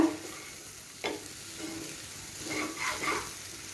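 Elephant foot yam (senai kizhangu) frying in oil in a pan, a soft steady sizzle with a sharp clatter near the start and a few louder stirring scrapes toward the end, no voices.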